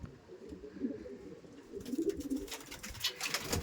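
Racing pigeons coo softly nearby in low throaty bursts, followed by a brighter rustle of fluttering and scraping toward the end.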